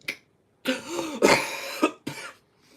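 Harsh coughing fit from a man on a podcast, several sharp bursts in a row, close and loud, with a throaty rasp between them.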